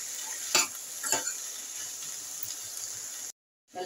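Turmeric stirred into an ivy gourd and coconut curry in a pot, soft sizzling under a couple of sharp spoon clinks against the pot, close and quiet, ending in a short silence.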